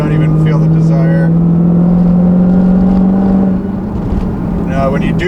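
A 2016 Dodge Challenger Hellcat with a six-speed manual revs its engine in a sustained, loud, droning climb that holds steady and then eases off, close and dominant under a faint voice.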